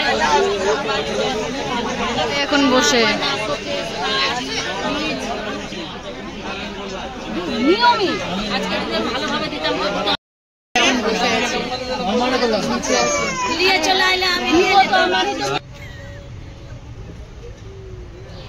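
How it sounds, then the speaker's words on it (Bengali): Passengers on a crowded train that has not yet started chatter loudly all around, a dense babble of voices close by; a person speaks briefly, and the noise drops to a quieter hum near the end. "আর দেখো এখানে কত ভিড় ট্রেনে, মানে মানুষ দাঁড়ানোর মতো জায়গা নেই"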